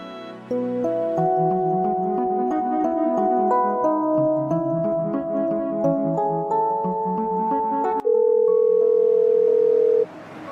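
A melodic run of electronic phone tones climbs through a tune, then a loud steady dial-tone hum holds for two seconds before cutting off.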